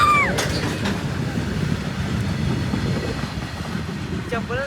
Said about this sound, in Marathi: मालगाडी.